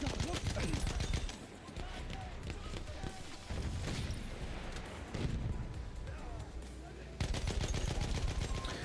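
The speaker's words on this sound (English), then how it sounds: "Machine gun." Rapid machine gun fire from Battlefield 1 multiplayer rattles steadily across the whole stretch with dense, loud bursts, mixed with other battle noise and a voice talking over it.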